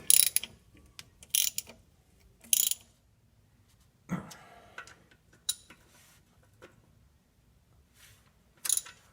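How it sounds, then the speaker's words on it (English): A hand ratchet tightens transmission oil pan bolts on a Pontiac Fiero GT, giving several short bursts of rapid clicking separated by quiet pauses, close and crisp with no talking. "Now I'm going to take the ratchet and go ahead and tighten everything up."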